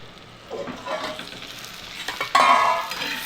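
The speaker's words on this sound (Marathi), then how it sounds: "हा बघा छान भाजलाय मसाला" Soybean curry masala roasting in a pan, with scraping stirs and a steady close sizzle that grows louder near the end. Utensils clatter against the pan now and then.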